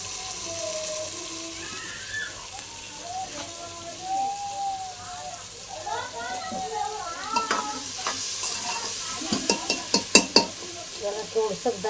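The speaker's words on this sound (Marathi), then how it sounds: "मसाल्याला तेल सुटूस तर चिकन चांगलं फ्राय करून घ्यायचं." Chicken frying in oil with masala for a quick pressure-cooker biryani: a steady sizzle under stirring, with a bright background tone early on and sharper spoon clatters near the end.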